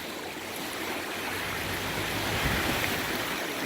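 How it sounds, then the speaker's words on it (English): Floodwater of Indian Creek rushing over Bill Watkins Road, a broad steady roar of churning water, loud and continuous with no voices. "But it is all just flooding water."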